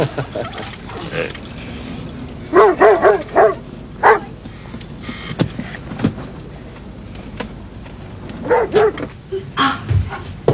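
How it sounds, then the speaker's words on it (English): A guard dog barks in short bursts, a couple of quick barks, then a single one, then another cluster, over a quiet indoor background with faint shuffling and knocks. "Oh, he's a guard dog."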